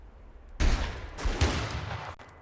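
Rapid bursts of gunfire in a shooter video game erupt suddenly and loudly, a dense volley that carries on with a second surge before cutting off abruptly near the end, with no talking over it.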